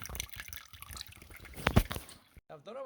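Water drains from an old coal-fire back boiler into a jug during removal, a close, faint trickle and drip with a brief louder gush midway, followed by a muffled knock.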